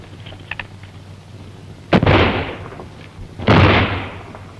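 Two loud gunshots ring out a second and a half apart in a 1933 western serial, each a sharp crack with a rumbling echoing tail over faint background hiss.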